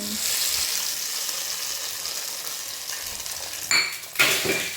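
Spices tempering in hot oil for a chutney crackle in a broad, steady sizzle that runs throughout, close by, with two sharper clatters of a spoon or pan near the end.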